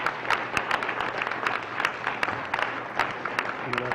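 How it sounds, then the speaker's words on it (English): An audience gives the Dean a round of applause at a community wealth-building event, a dense, continuous clapping from a crowd of hands close by, sustained for the full stretch without pause. "I'd like to give the Dean a round of applause as well for putting together an outstanding day"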